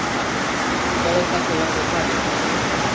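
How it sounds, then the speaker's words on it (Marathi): Heavy rain pounds a tin sheet roof in a dense, steady roar that stays loud and unbroken throughout, with no clear gaps. "वरून पण टपकाय लागलं सगळं पाणी पत्र्यात तर खतरनाक आवाजच यायला लागला"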